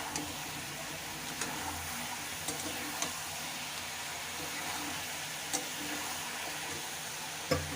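Spice paste fries in a pan with a steady soft sizzle, broken by a few sharp clicks and taps of stirring.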